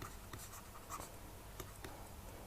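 Pen or chalk writing by hand during a polynomial multiplication lesson, a steady scratchy scribble with a few sharper strokes, close and moderately quiet with no talk.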